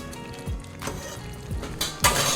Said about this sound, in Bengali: এবার ভালো করে একটু নাড়াচাড়া করে নেব